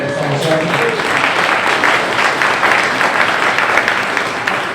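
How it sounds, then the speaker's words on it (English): A crowd at an outdoor farm political rally applauds the young people present, a broad, continuous wash of clapping with some talk and voices mixed in. "Give a round of applause to the young people in the room."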